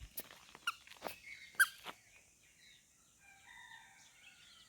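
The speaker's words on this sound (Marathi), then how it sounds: "पक्ष्यांचा किलबिलाट ऐका कशा प्रकारे येते सकाळ सकाळी" Sharp, scattered bird calls and chirps sound in the first seconds of a village morning in Konkan, then fainter warbling twitters continue quietly in the background.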